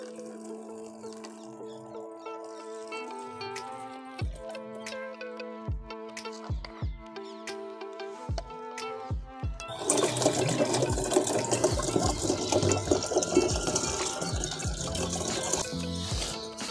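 Hydrogen peroxide solution poured into a container for an elephant toothpaste foam experiment: a steady liquid stream, preceded by clinks and taps over a tonal background hum, that grows into a louder, fuller rushing pour in the second half.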